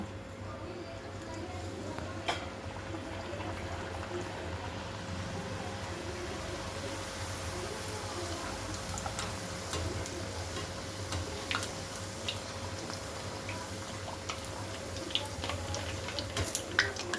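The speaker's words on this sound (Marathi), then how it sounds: "तेल गरम झालेलं आहे आपण पुरी टाकून घेऊ" Palak puri frying in hot oil gives a continuous soft sizzle with scattered small ticks and crackles and a steady background hum, while a person speaks quietly over it.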